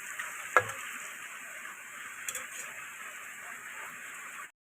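Onions for a local chicken curry frying and stirred in a pan, a steady soft sizzle with a brief clatter of the spoon near the start and a faint scrape midway.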